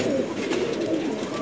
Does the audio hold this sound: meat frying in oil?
no